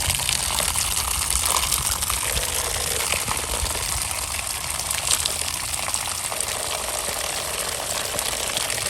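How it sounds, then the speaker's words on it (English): Water gushes steadily through a potted orchid's growing medium to flush out excess salts, a continuous close rushing and trickling wash with no pauses. "So this is going to flush out these excess salts."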